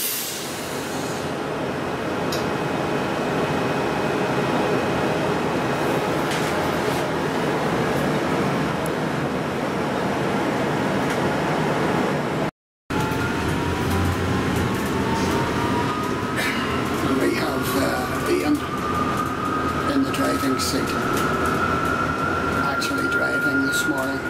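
Harlander driverless shuttle bus riding through Belfast's Titanic Quarter, a steady interior hum and rumble with a rising electric whine from the drive motor in the second half, one brief dropout midway.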